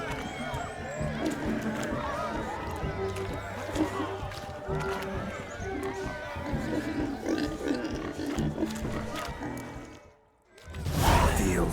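Pig grunts and snorts from The Witcher 3 farmyard, a busy, steady layer of animal noise under game music and ambience, with a speaking voice; sound drops out briefly near the end before a loud burst.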